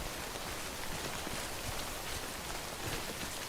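Steady rain falls throughout in the Death Stranding video game on PS4, a dense, even hiss of drops on surfaces with no break and no voices.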